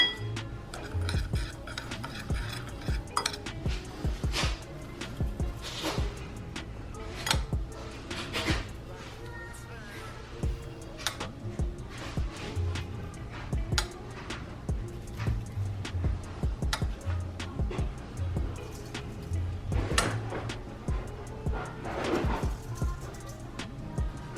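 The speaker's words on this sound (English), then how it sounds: "I smoosh it with the butcher knife and then I mince it up" A butcher knife smashing and then mincing garlic on a cutting board, producing a steady run of knocking chops with irregular spacing, close by and moderately loud, with occasional clinks.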